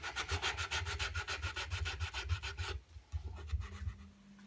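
Rapid, rhythmic strokes of sandpaper rub across the wooden headstock of a budget Telecaster-style guitar kit, close and regular, then slowing into lighter, sparser strokes.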